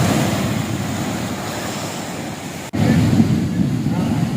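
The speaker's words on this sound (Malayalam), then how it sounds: "ശക്തമായ തിരമാലയിൽ വെള്ളം ആഞ്ഞടിച്ച് വീടുകളിലേക്ക് കയറുകയായിരുന്നു." Strong sea waves surge in at Vadanappally beach during a sea attack, flooding homes: a loud, continuous roar of surf and wind with no break in the wash, and a brief cut partway through.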